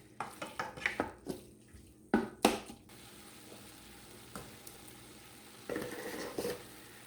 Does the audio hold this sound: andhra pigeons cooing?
no